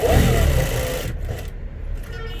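A sewing machine stitches a kameez seam with a steady whirring run for about a second, then drops to a quieter, lighter hum with faint clicks.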